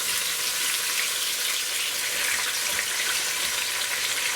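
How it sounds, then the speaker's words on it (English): Onions frying in a pan for mushroom pilau, a dense, steady sizzle heard up close that holds at an even level throughout, with no voices. "And then you fry the onion until"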